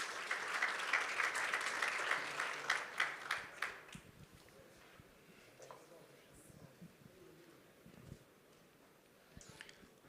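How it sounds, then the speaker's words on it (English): An audience applauds at a breakout session of the Devcon SEA tech conference, with dense, fairly loud clapping for about four seconds that quickly tapers off into a quiet room with only scattered faint sounds. "Round of applause, please."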